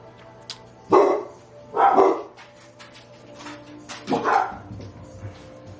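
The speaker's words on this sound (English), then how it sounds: "They just bark at everything." Several dogs bark indoors in three separate bursts spaced about a second apart, moderately close, with a faint murmur in the background between barks.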